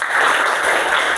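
Schoolchildren applauding in a classroom, a dense burst of many hands clapping together, loud and close, filling the whole short moment.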